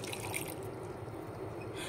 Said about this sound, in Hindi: और अब हम इसमें डालेंगे थोड़ा पानी जिससे इसे पीसने में कोई दिक्कत ना हो।